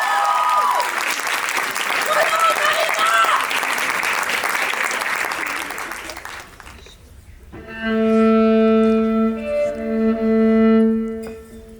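A school audience at a senior-year student concert applauds loudly and steadily for about six seconds; the clapping fades and sustained musical notes then begin alone.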